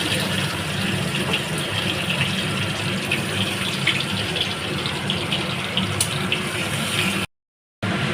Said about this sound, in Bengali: এবার আমি এই তেলে পেঁয়াজ কুচি দেবো।